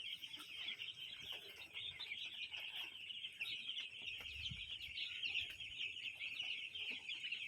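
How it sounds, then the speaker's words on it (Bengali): Poultry birds on a farm keep up a continuous chorus of clucking and chirping, moderately close and steady throughout with no talking over it. "দেখতে পাচ্ছেন আপনারা পাখিগুলো কত সুস্থ আছে।"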